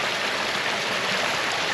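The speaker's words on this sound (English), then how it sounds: "look at that flow. Just look at that groundwater." Groundwater gushing from muddy, unstable ground beside a gravel road under construction, a steady close broadband rush of flowing water with no speech.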